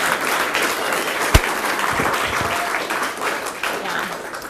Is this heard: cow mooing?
no